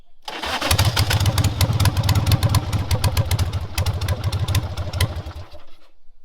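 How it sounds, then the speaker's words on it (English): A 1982 XLS1000 motorcycle engine fires up and idles with a loud, rapid, throbbing rumble of steady exhaust pulses close by, running for about five seconds before cutting out abruptly. "It's crazy loud, sweet sounding motorcycle. Oh, and it's got that nice rumble too."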